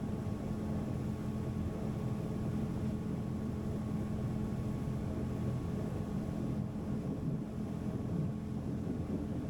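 An Iron 907 Open boat with a V10 400 hp engine runs at speed, about 40 knots and 5,000 RPM, giving a steady loud roar with wind and water rush throughout and no talk.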